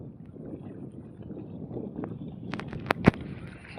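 A trawler boat moves across open water, its engine a low broadband rumble mixed with wind buffeting the microphone, with a few sharp knocks and splashes near the end and no voices.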